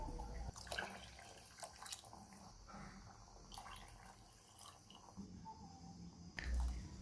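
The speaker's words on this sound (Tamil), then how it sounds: "இப்போ 3 டம்ளர் தண்ணி சேர்க்குறேன்." Water being poured into a pot holding rice and tamarind water while making one-pot rasam rice in a cooker, a faint, steady splashing trickle with small clinks of the vessel, heard alone without talk.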